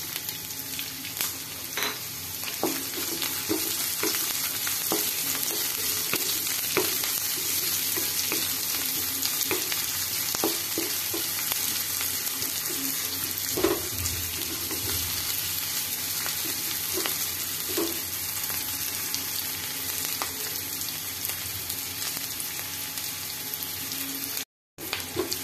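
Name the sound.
onion frying in a pan with panch phoron and green chillies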